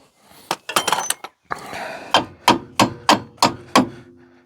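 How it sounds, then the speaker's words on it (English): A stuck brake caliper pin on a Renault Vel Satis is hammered out with a steady series of sharp metallic blows, loud and close, after a few quicker irregular taps. "I've had to hammer that out while spinning it"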